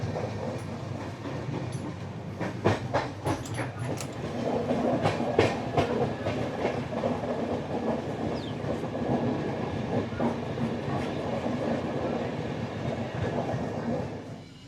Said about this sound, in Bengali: আমাদের ট্রেন মোটামুটি 20-25 মিনিট মতো বিফোর টাইম চলছিল